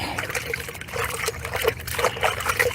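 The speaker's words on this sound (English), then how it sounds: "I have a bucket here to wash my hands" Water trickles and splashes steadily as hands are washed in a bucket, a close, moderately loud wet swishing that runs throughout with no one talking.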